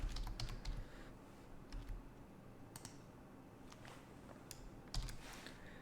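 Keys on a computer keyboard tap quietly and unevenly in a few short bursts close to the microphone, with no voices.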